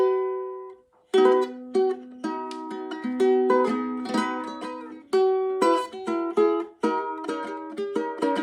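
A solid black walnut ukulele with Goto tuners is plucked and strummed close up, bright nylon-string notes and chords ringing in a quick, lilting rhythm after a brief opening note, with no voices.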